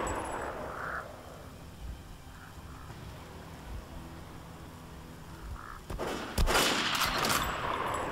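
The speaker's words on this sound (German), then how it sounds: "Schön daneben geschossen." Gunfire in the video game Metro: Last Light, a few sharp bursts breaking in after a long quiet, dark ambient stretch, growing louder and denser toward the end.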